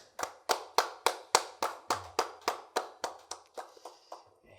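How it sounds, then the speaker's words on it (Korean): Rhythmic clapping at a Wednesday prayer service to glorify God, about fifteen evenly spaced claps that grow softer toward the end. "여러분들께서도 각 가정에서 박수로 하나님께 영광 돌리신 줄 믿습니다."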